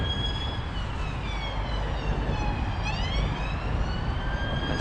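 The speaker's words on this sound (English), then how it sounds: "Okay, that's a police car." A police car siren wails at a distance, a steady rising and falling tone that sweeps faster near the end, over a continuous low traffic rumble with no talk.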